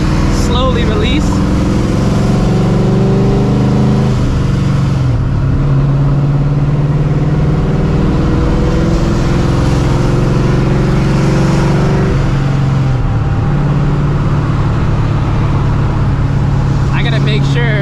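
Supercharged New Edge Mustang GT with a 700 hp setup accelerating from the driver's seat, its engine drone climbing in pitch through repeated rising sweeps, loud and close, with brief easing between pulls.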